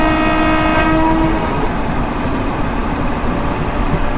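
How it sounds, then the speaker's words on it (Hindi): Train horn in WCR Train Simulator 2022, sounding on a Mumbai Garib Rath Express at night: a loud sustained multi-tone blast over steady rolling rail noise, the horn fading after a second while the rumble continues. "हॉर्न बजा के हम लोग पीछे"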